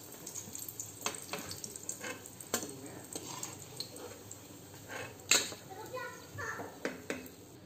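Batata vada, spiced potato fritters, fry in hot oil with a steady sizzle and scattered bubbling crackles. A voice is heard in the background, and a sharp clatter of a utensil stands out partway through.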